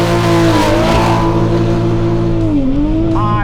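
A Toyota Supra on an off-road hot lap, its engine roaring loud and steady close up with a sustained high rev, a brief dip in pitch and then a climb again.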